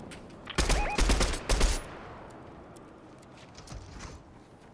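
Bursts of rapid gunfire in a Fortnite squads match, three loud volleys clustered in the first two seconds, followed by quieter distant shots over a low ambient bed.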